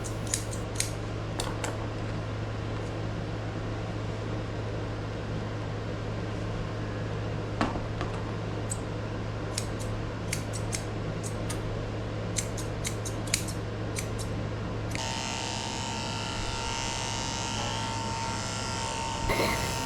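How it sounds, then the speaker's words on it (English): Thinning shears snip mats from the tail of a Bichon-Spaniel mix dog during a short pet haircut, with crisp, irregular clicks spread across a steady background hum that brightens near the end. "when there's little mats in the tail, you can just use thinning shears and you'll never even know you cut them out"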